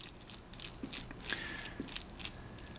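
Small metal screw being turned out of the rotor head of an E-flite Blade SR model helicopter, a quiet run of faint clicking, ticking mechanical sounds close up, with a few light taps and scrapes.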